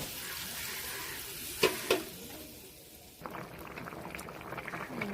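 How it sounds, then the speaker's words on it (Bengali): Prawn and Malabar spinach seed curry simmers in a pot, a soft bubbling hiss broken by two sharp clinks early on, then a quieter continuous boil. "যে ফুটছে তরকারিটা"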